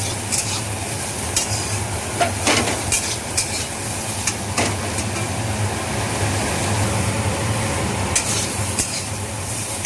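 Vegetables fry in oil in a wok for a Bengali shukto, a steady close sizzle with occasional scrapes and stirring clicks over a constant low hum, with no talking.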